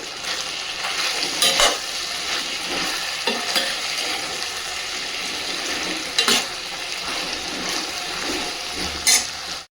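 Fresh curry leaves and coriander drop into hot oil and sizzle loudly and continuously while being stirred, with occasional sharper crackles and clinks of a spoon against the pan.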